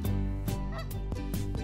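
A goose in the zoo-building video game Let's Build a Zoo honks about half a dozen times in a loud, nasal, uneven sequence over a steady tonal background, with no speech.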